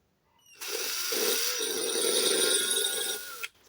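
Power drill boring into a flower pot, a loud whining grind that starts abruptly, holds steady for about three seconds with slight wobbles in pitch, then cuts off.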